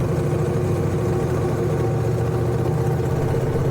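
A Honda Rebel 1100 DCT cruiser motorcycle rolls onto a bumpy road, its engine giving a steady, loud, low rumble with a dense broadband drone throughout.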